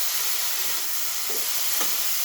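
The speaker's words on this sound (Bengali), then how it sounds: "আলু বেগুনটাকে আমি একটু ভালো করে ভেজে নেব।" Potatoes and eggplant frying in a pan with salt, a steady broad sizzle and hiss running throughout, with a few faint stirring scrapes along the way.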